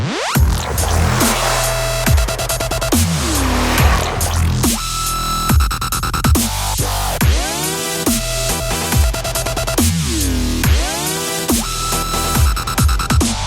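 A Mercedes-AMG GT 63 S with 630 horsepower accelerates hard in full power mode: loud, close engine revs climb repeatedly, each broken by a quick gear change, with no talking.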